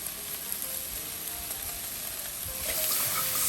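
Minced garlic sizzling in a pan with softening mushrooms, a loud, dense, even crackle close up that swells slightly toward the end, with no voices.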